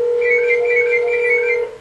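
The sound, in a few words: telephone ringing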